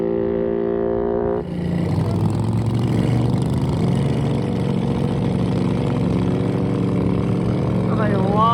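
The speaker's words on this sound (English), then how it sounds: "She's off. All 350 cc's of fury." A 350cc motorcycle streamliner sets off on the Bonneville salt flats, its engine rising into a loud, sustained drone after an idling start, with voices faint beneath it.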